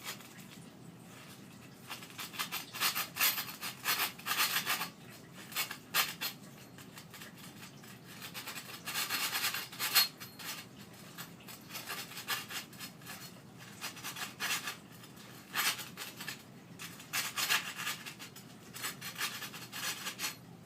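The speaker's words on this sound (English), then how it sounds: "After you cut the shaft, you need to sand the end that you cut so it's not sharp." The freshly cut end of a golf club shaft being sanded during club building, a close, steady rasping rub in uneven bursts of back-and-forth strokes with short pauses, no voices.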